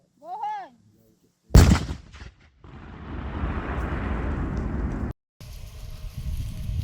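A sharp, loud blast of controlled detonation of explosive ordnance in a pit bursts out after a brief shout, followed by a long rumbling roar and debris noise that fades, with a wind-buffeted rush continuing afterward.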